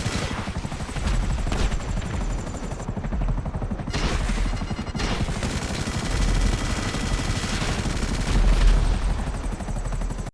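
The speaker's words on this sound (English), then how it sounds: "the Mark II pilot put a sticky bomb on his bike before taking off that ultimately got shot by the Buzzard guns" Buzzard attack helicopter guns in GTA Online firing at a sticky-bombed Oppressor Mark II bike, a steady rapid machine-gun rattle under helicopter rotor drone, loud and continuous with a few brief lulls.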